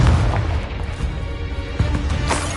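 A Confringo fire spell blasting in a video game, bursting into a dense, continuous explosive rumble with a few sharp cracks and no pauses.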